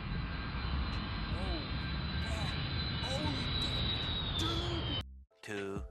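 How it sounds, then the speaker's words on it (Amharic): An airplane tries to land in strong wind, its engines a steady roaring whine with a high tone that slowly falls, loud and continuous for several seconds before cutting off abruptly, with brief voices at the end. "ይህ አውሮፕላን ለማረፍ እያሞከረ ያለ ተዳደረው ያለ የነበረው ንፋስ እንዴ እያወዘወዘው ነበረ።"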